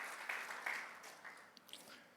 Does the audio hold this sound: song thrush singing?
no